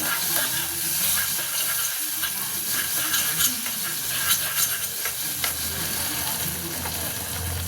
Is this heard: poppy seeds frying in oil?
yes